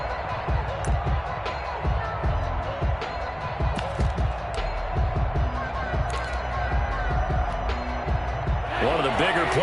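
Crowd noise swells in a PS4 American football video game as a big third down approaches, a steady roar of cheering and babble running throughout with a commentator talking over it.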